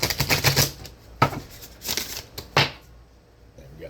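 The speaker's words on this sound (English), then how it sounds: "let's shuffle the Oracle deck" A deck of oracle cards being shuffled by hand: quick papery riffles and slaps in several bursts with short pauses between, close and fairly loud.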